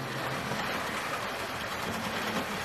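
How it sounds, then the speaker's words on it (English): A Hornby model GWR Hall class locomotive, Rood Ashton Hall, runs round a model railway track with a steady, continuous rolling rumble and faint wheel clatter, close by and alone. "Now we've got the lovely Rude Ashen Hall going round here now on the railway"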